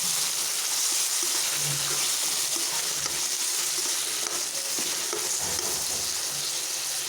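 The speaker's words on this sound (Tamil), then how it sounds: "எல்லாம் சேர்த்து நல்லா கிண்டி விட்டுக்கலாம்" Onions and tomatoes for a black chickpea curry fry in a pan with a constant close hiss, stirred with faint scraping now and then.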